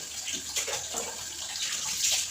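A small child splashes and plays in bath water during a hot summer power cut. Light, irregular splashes and water sloshing repeat at close range and moderate level over a steady watery background, with no talking.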